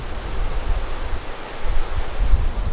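Wind blows steadily across an open desert route in Southern California, a continuous low rushing roar with gusty swells and buffeting against the microphone, no voices.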